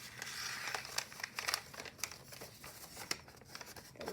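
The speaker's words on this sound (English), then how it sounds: "take a reverse fold along the creases there" Origami paper is reverse folded along its creases, giving close, quiet crinkling and crisp rustles in short bursts with a few sharper snaps, with no voices.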